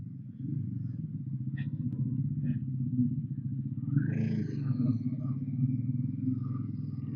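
A Bajaj NS400Z motorcycle rides on the road from Hyderabad toward Srisailam, its engine droning in a steady low rumble close by while the rider speaks over it.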